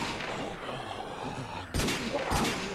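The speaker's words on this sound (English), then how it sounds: "someone else is shooting now" Gunfire in the zombie-survival video game ApocZ: two short, loud shot bursts crack out about half a second apart over a low, steady background rumble.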